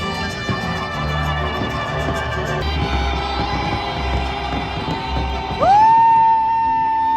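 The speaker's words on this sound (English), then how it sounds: "a jubilant crowd has gathered for New Year's Eve" A jubilant outdoor crowd at the Angel of Independence in Mexico City cheers, whoops and shouts on New Year's Eve, a dense continuous roar that swells louder near the end.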